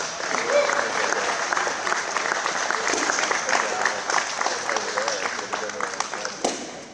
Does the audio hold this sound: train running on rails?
no